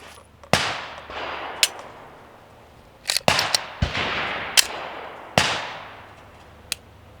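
An empty Glock 17 Gen 6 pistol is dry-fired. Several sharp, crisp trigger clicks sound close up, spaced irregularly with brief ringing decays and no voices.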